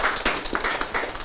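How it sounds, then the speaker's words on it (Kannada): Applause from an audience at a legal guide book release event, a broad wash of clapping that rises and falls in bursts over a short stretch. "ಒಂದು ಜೋರ ಚಪ್ಪಾಳೆ ಎಂಟೈರ್ AFIಗೆ"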